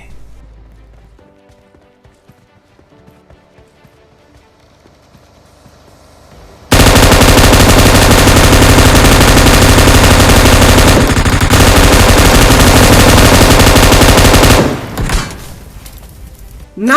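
M249 machine gun firing in a video game, a loud continuous burst of rapid automatic fire that lasts about eight seconds and then cuts off, coming after a quieter stretch of in-game sound.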